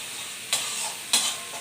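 Spices with turmeric and Kashmiri chili powder frying in oil for a katla fish curry, a steady close sizzle broken by two sharp stirring bursts.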